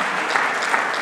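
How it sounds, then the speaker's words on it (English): A corporate conference audience applauds after a presentation, dense steady clapping filling the hall at an even level throughout. "Can we have a huge round of applause, everyone?"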